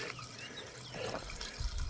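Water drains from a garden water butt with a continuous splashing, gurgling flow, moderately quiet and close, with no talk.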